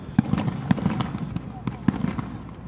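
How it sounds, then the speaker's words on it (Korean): Fireworks at a harbour summer festival in Japan, bursting far off as repeated dull thumps with scattered crackle, set within steady crowd murmur and nearby talk. "꽤 먼 거리인데도 앉아서 불꽃놀이를 즐기는 사람들이 많습니다."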